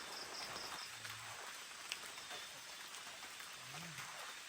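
Heavy rain pours down in a steady, dense hiss that fills the whole stretch without letup, with faint insect chirps in the background and no voices.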